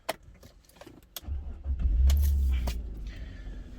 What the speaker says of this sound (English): Let's fire up the car